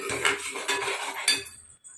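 A spoon stirring pasta with turmeric and chili powder in a metal pan, three or four quick scraping, clinking strokes in succession, close and clear, ending with a brief tap.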